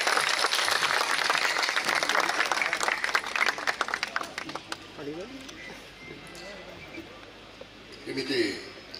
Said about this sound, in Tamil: பலத்த கைத்தட்டங்களை வழங்குமாறு கேட்டுக்கிறேன்